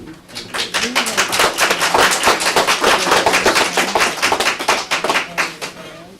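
A room full of people at a board of education meeting claps loudly and steadily for several seconds, then the applause thins out toward the end.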